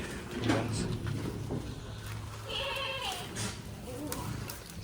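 A billy goat bleats a few times, wavering and moderately close, over a murmuring outdoor background with occasional voices.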